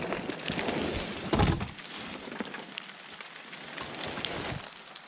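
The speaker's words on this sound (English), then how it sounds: "There's a bunch of rain and a little bit of blue wire." Steady rain patters and splashes close by on surfaces outside around dumpsters, a continuous wet hiss with a louder thump or knock around the middle and scattered small cracks.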